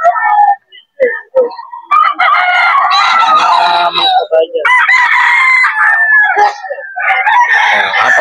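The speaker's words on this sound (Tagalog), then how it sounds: "Ito yung ibang manok niya mga idol." Several roosters crow in overlapping, drawn-out calls among clucking chickens at a Bocaue poultry market, loud and close, with barely a gap in the crowing.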